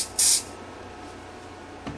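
Short burst of Glue Boost accelerator sprayed from a can during a leather strap stain and finish repair, a loud hissing spritz lasting about a quarter second, then quiet room tone with a faint tap near the end.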